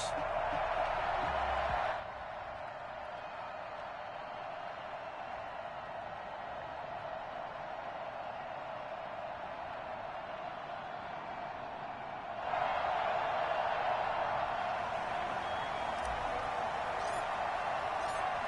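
A stadium crowd roars in a USFL football video game before a Buffalo Bills versus Chicago Bears matchup, a steady wash of distant cheering that swells louder at the start, dips for a long stretch, then rises again near the end.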